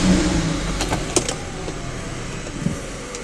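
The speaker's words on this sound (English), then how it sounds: "you're going to run your car for about 15 minutes until your oil temperature is showing as nice and warm" A BMW 330i with the N53 engine idles steadily to warm its oil, a low continuous hum with a few faint clicks over the top.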